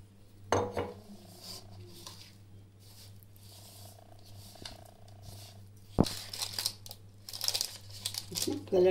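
Red chilli pickle filling is mixed in oil with a spoon in a bowl. Soft scrapes and occasional clinks sound over a steady low hum, and the stirring becomes busier and clattering toward the end.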